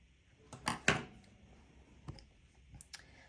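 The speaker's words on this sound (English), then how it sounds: "So let's go ahead and cut off our string." Cutters snip through beading string while finishing a pair of tassel earrings, giving a couple of quiet close clicks near the start followed by fainter scattered ticks.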